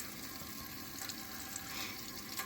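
Water and fuel drain from the fuel tank of a Ford Falcon, a steady trickling splash that runs without a break and stays fairly quiet and close.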